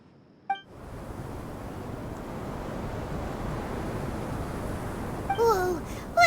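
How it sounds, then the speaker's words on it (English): Strong sandstorm wind in Genshin Impact roars as a steady, loud rushing wash that builds after a brief opening sound, with voices and chattering effects coming in near the end. "The wind's so strong. Is this a sandstorm?"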